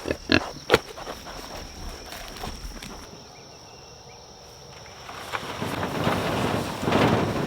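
Hungry pigs feeding outdoors on a farm: a few sharp grunting bursts at the start, then a quieter stretch, before louder snorting and rooting noises build near the microphone, with wind and insect hum in the background.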